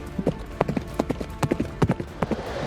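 Horse hooves clip-clopping in a brisk, even rhythm, close and distinct, about a dozen crisp strikes with no other sounds.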